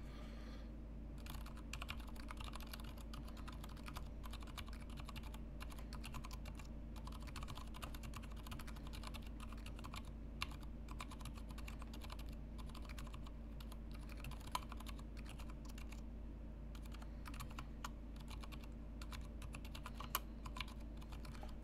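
Steady mechanical keyboard typing on a Top Clack M60-A with its regular switches, a continuous run of close, crisp keystrokes without spacebar presses, playing alone at a fairly even pace.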